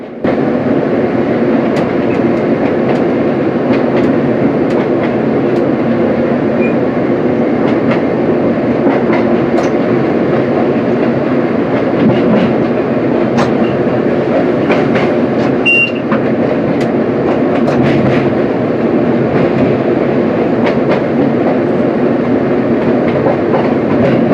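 A Chiltern Main Line train arrives at London Marylebone after emerging from a tunnel, its loud, steady rumble and wheel clatter filling the cabin continuously with faint squeals on top.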